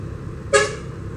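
A single short car horn toot sounds once, moderately close, over a low hum of street traffic in Bojonegoro, Indonesia.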